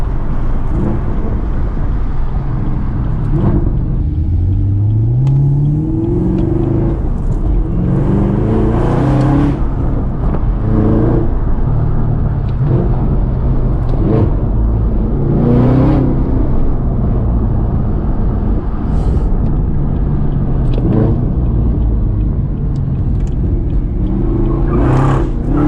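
A 2019 Chevrolet Camaro ZL1 1LE engine roars loud and close through repeated hard accelerations, revs climbing through gears with brief drops at shifts, heard from inside the car on a drive.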